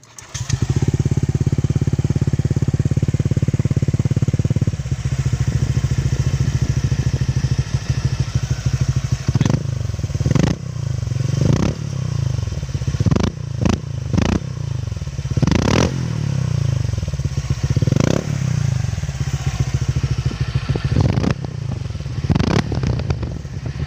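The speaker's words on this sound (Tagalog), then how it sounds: "sound check na tayo ng ating exhaust X6" A Honda Click 125 scooter fitted with an Exos X6 aftermarket exhaust runs steadily and loudly up close, its throaty drone broken by occasional sharp clicks and small blips.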